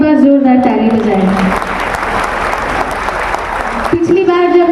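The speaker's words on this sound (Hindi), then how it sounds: "मैं चाहती हूँ इस संख्या के लिए आप लोग एक बार जोरदार ताली बजाएं।" A large crowd of women at a Hindi-language gathering in Sarnath bursts into loud, dense applause that lasts several seconds, bracketed by someone speaking into a microphone before and after.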